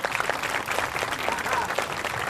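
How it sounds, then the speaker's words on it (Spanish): Audience applause at an outdoor clown show in the Alameda, Mexico City, with steady, dense clapping that stays level throughout and a voice faintly audible beneath it. "el aplauso"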